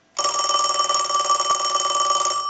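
Steady, loud bell ringing from a Western Electric Princess rotary telephone being repaired and rung by an analyzer, a single unbroken burst of over two seconds with a faint click partway through, starting abruptly from silence.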